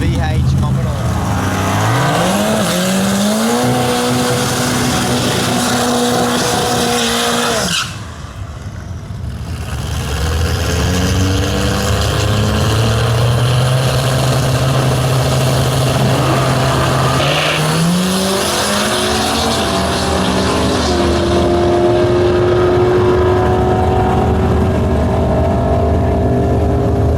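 A Suzuki drag car and a VH Commodore race at a drag strip, with loud engines roaring and climbing through gears, a brief drop, then sustained high revving that carries on for many seconds.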